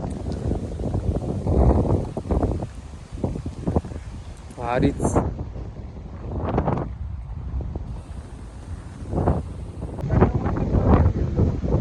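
Strong gusts off the sea at the Malvan shoreline by a rock garden, buffeting the microphone in steady rough rushes while people talk close by.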